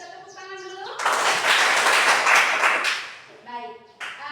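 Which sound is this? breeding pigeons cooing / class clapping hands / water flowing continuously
class clapping hands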